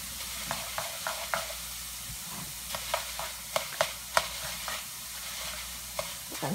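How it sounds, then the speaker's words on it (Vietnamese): Crispy seafood noodles fry in a pan with a steady sizzle, broken by scattered clicks and scrapes as a utensil stirs them, heard up close without talking. "Chiên cái này rất là mau chín nè."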